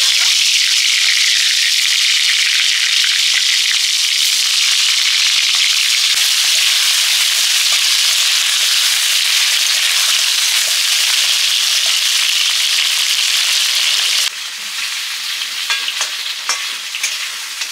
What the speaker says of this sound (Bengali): নুন হলুদ মাখানো আলুগুলো ভেজে নিচ্ছি আলুর তরকারির জন্য।